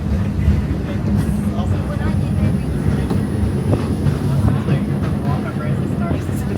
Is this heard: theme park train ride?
yes